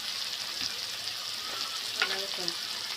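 Capsicum pieces with turmeric fry in a pan, giving a steady soft sizzle with a few light scrapes and stirring clinks near the end, close and fairly quiet.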